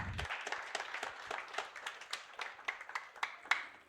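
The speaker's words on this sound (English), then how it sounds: "Another hand clap for him, please." Audience hand clapping at an annual general meeting, fairly faint and distant, a scattered mix of individual claps that thins out toward the end with a few sharper isolated claps.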